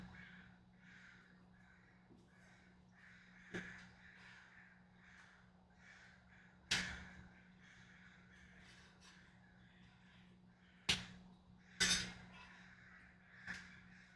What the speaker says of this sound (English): there's like crows going crazy outside right now.